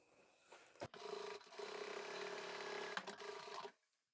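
A sewing machine stitches the side seam of a vinyl handbag, whirring at a steady, close, fairly loud pace for about three seconds after a brief clack, then stopping abruptly.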